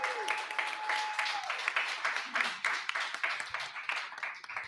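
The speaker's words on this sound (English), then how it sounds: "Let's give a big round of applause to our guests." Sustained clapping from a live audience at a podcast recording in Washington DC, dense and continuous, with a tone ringing briefly in the first second.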